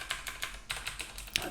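Keyboard shortcuts tapped on a computer keyboard, a quick series of crisp key clicks at an uneven rhythm, close and moderately loud, with no talk.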